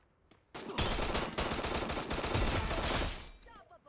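Rapid automatic gunfire from the Free Fire battle royale game, a dense, loud burst of shots lasting about three seconds after a short quiet lead-in.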